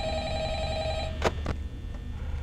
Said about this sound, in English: I think we get a phone call every night, right?